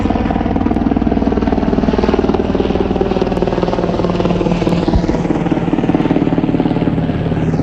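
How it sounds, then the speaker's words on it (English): A military helicopter roars loudly, flying low overhead, its rotor blades thumping in a fast steady rhythm over a constant engine drone throughout. "yeah, it's a military helicopter too, man."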